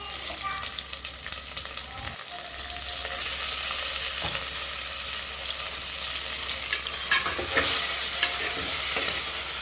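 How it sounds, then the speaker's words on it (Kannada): Tomatoes frying with reddened onions in a pan for tur dal sambar, with a steady sizzle, scraping stirs and a clunk from the spoon, growing louder after a moment, no voices. "ಟೊಮೊಟೊನೆಲ್ಲ ಸೇರಿಸಿ ಉಟ್ಕೋಬೇಕು"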